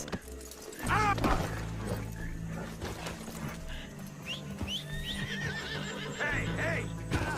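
A horse in Red Dead Redemption 2 whinnies with rising, wavering calls over game music and background noise, alongside faint hoofbeats and clattering.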